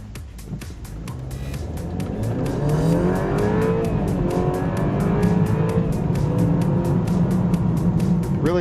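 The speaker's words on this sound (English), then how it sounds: "it really doesn't sound like a typical 4-cylinder engine. Again, it has a nice growl to it" A 2012 BMW 328i four-cylinder accelerating hard from a standstill, its exhaust growl rising in pitch through the revs, loud and close, with no talking.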